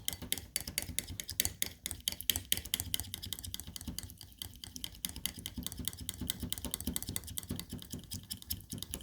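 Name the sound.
stirring and mixing homemade anti-aging oil cream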